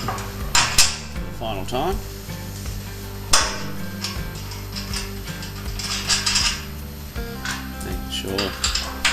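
Metal parts of a welding jig with ground-back galvanised steel being bolted back together, giving sharp clanks and clinks with ratcheting and scraping throughout, close and fairly loud, while someone briefly speaks over it.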